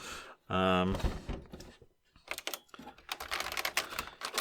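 Someone types on a vintage computer keyboard from an estate sale: a brief voice, then a quiet pause, then a run of quick, close clacking keystrokes.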